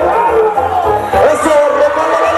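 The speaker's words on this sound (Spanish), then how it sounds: "Recálale el aplauso" A crowd at a charlotada versus jaripeo event in Chicolopan cheers and applauds, a loud, busy roar with rising whoops and bangs that carries right through without a pause.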